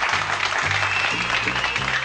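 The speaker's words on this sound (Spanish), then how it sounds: "El aplauso." A dense wash of applause from a circus audience fills the clip, with low tones droning faintly underneath.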